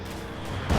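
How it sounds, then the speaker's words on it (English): Artillery and indirect fire trading shots in Company of Heroes 2, a low rumbling barrage building into a louder boom near the end of the short stretch, with no talk over it. "Lots of artillery being exchanged, lots of indirect fire."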